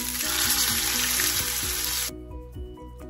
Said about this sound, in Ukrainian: Вложили 3 куски лосося і смажимо на великому вогні до золотистого кольору.